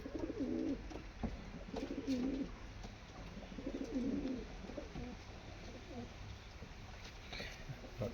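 Pigeons coo in several soft, rhythmic bursts at a loft with birds for sale, each phrase a low throaty warble repeating every couple of seconds, fairly close and faint against quiet background noise.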